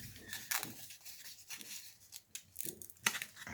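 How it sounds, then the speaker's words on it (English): Scissors snip through a chunk of material in a few crisp, close cuts spread unevenly across a quiet background, with faint rubbing and handling sounds between the cuts. "Just lean the scissors over and take a chunk."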